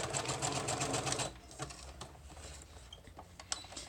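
A sewing machine stitches down the edges of pieced paper in a fast, even mechanical patter, then slows to scattered short bursts and clicks. It is close and fairly quiet, with no talking.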